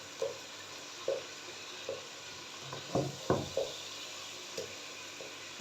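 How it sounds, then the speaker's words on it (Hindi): A spoon mashing softened cooked tomato in a pan for a masala bhindi dish, giving soft, regular squelching taps about once a second over a low background sizzle, close and unaccompanied by speech. "अब इसको चम्मच की मदद से मैश करूँगी मैं।"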